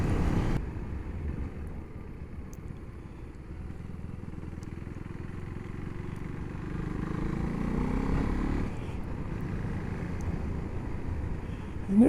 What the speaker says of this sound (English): it revs out really well for a little single cylinder engine